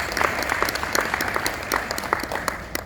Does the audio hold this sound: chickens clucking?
no